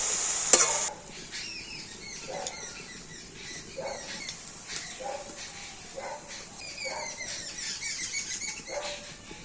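Jaggery filling stirred in a pan, giving a soft sizzle with irregular scraping strokes and light clicks, close and fairly quiet, with a brief sharp sound near the start.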